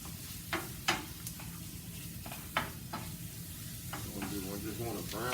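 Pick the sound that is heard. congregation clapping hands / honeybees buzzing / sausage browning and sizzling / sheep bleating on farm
sausage browning and sizzling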